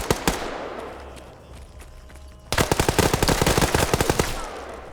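Automatic rifle fire in the military shooter Arma 3 during a PvP tournament match: a few scattered shots, a short lull, then a sustained rapid burst of loud, close gunfire, with no voices over it.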